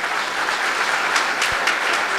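An audience claps steadily for the participants at a national minorities festival in Armenia. The applause is dense and even throughout, with a faint voice in the mix.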